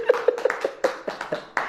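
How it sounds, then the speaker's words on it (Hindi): A church congregation at a sermon claps hands in a quick, steady rhythm of about eight sharp claps, close and moderately loud. "ताली बजाए।"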